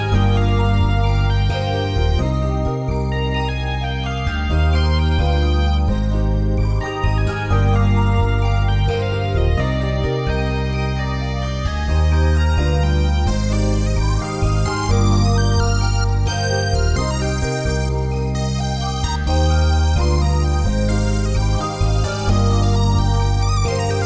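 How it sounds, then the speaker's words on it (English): A 90s-style R&B beat melody programmed in FL Studio plays with gliding lead synths over warm chords and a deep low end, steady and loud for the whole stretch with no voices. "But yeah, altogether the melody sounds like this."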